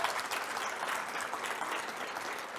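An audience at a university fall convocation applauds to welcome new faculty, a steady wash of many hands clapping at moderate distance, even and sustained without voices.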